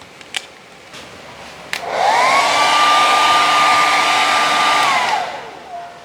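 A hair dryer warms a plastic bucket, switching on after a couple of clicks into a loud steady whirring blast with a whining tone, running for about three seconds before winding down.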